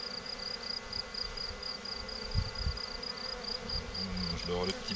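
Honeybees hum steadily around a hive at dusk after a swarm is collected, a dense, continuous drone with a few louder passes close by.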